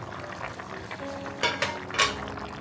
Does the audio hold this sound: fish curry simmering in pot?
yes